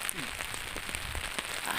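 Cold, steady rain falls outdoors during a home vlog on a Diwali day, a close, even patter of drops on surfaces throughout, with a voice faintly present beneath it.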